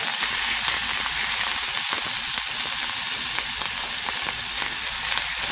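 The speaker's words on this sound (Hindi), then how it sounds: "इसमें ऐड कर देते हैं ये जिंजर गार्लिक का पेस्ट" Ginger garlic paste sizzling and frying in hot oil in a pan, a steady loud crackling hiss with scattered pops and occasional stirring scrapes.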